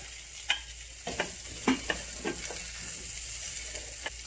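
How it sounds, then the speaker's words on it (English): Potato, pumpkin and carrots go into a pan of caramelized seasoning with thyme, rosemary and pimento seeds, then get stirred; a soft continuous sizzle carries a run of close spoon scrapes and knocks, with no voices. "I'm going to add in my vegetables"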